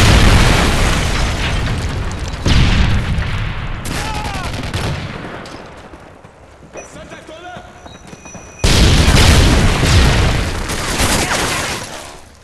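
A Semtex grenade blast in the Modern Warfare 3 video game: loud booming explosion bursts with gunfire crackling around them, a quieter lull midway, then another heavy blast near the end.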